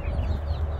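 Young backyard chicks cluck in a brief, close, low burst of soft clucking.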